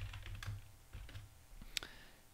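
Someone types a password on a computer keyboard, a short run of light, irregular key clicks close up, ending in one sharper keystroke, with no speech.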